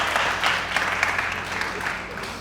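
Light, steady applause from an open mic audience in Lucknow, fairly soft and close, with scattered individual claps across a couple of seconds.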